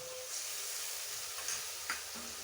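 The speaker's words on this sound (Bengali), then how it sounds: "আর এই মশলাটা এখন ভালো করে কষিয়ে নেব" Spice paste frying in a pan for a Bengali egg-and-pea dish, a faint steady hiss and sizzle with a couple of soft stirring scrapes.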